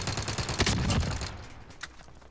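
Gunfire in the shooter game Call of Duty: Modern Warfare, a dense burst of rapid shots over the first second or so that thins out and fades, with a single sharper crack near the end.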